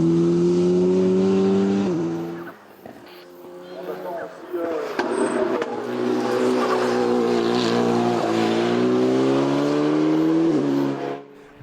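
An Alpine A110 GT Sport race car climbs the Mont-Dore hill climb, its engine droning and rising through the gears at mid distance, held steady under continuous trackside commentary.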